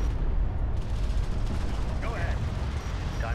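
Airstrike explosions and gunfire on a desert battlefield in the real-time strategy game Homeworld: Deserts of Kharak, a continuous rumbling barrage of blasts and shots with faint radio-style voice chatter mixed in.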